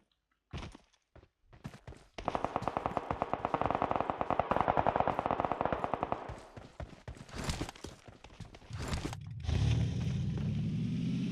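Sustained bursts of rapid automatic gunfire in PUBG Mobile, loud and close, followed by scattered shots and a rumbling engine-like drone at the end.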